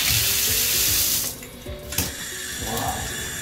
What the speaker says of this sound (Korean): 이제 청소 전이랑 샤워기 물줄기를 비교해 볼게요